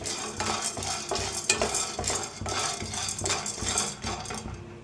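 Peanuts and roasted gram being stirred in a hot pan, a steady rhythmic scraping and rattling of the dry pieces with light sizzling, close and continuous.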